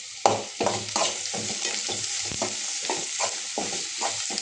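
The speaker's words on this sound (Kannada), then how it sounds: "ಉಳ್ಳಾಗಡ್ಡಿ ಮತ್ತು ಬೆಳ್ಳುಳ್ಳಿ ಹಸಿ ವರ್ಷದವರೆಗೆ ಸ್ವಲ್ಪ ಫ್ರೈ ಮಾಡ್ಕೊತೀವಿ." Onion and garlic sizzle as they fry in a pan, with a rhythmic series of close spatula stirs and scrapes over a continuous hiss.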